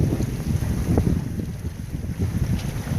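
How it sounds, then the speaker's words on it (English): Steady wind rushes and buffets the microphone aboard an O'Day 272 sailboat sailing single-handed in about 10 knots of breeze, a continuous low roar with gusty swells and faint water sounds, no voices. "Wind's kind of dying down."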